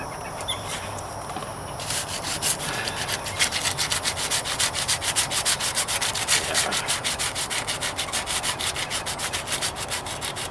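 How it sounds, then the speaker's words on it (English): Steady, rhythmic scraping of sandpaper rubbing back and forth across the painted trunk and rear bumper of a 1998 Toyota Corolla, close and continuous with quick regular strokes. "sometimes when I'm sanding, I'll stay in one spot and get one area complete"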